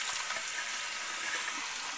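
Tap water runs steadily into a sink while dirty screws are rinsed under it, a soft continuous splashing wash at close range with no talking.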